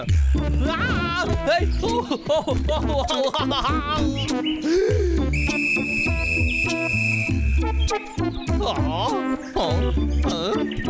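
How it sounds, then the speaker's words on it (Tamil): A steady, shrill whistle blast holds for about two seconds amid busy cartoon music, voices and effects in a Tamil cartoon. "அதை கண்ட்ரோல் பண்ண அது கழுத்துல இருக்க விசில் அடிச்சா போதும்"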